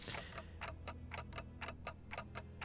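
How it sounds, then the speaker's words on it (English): A clock in the video game Limbus Company ticks steadily with about ten crisp, evenly spaced ticks, alone and fairly close. "ticking is all I can hear"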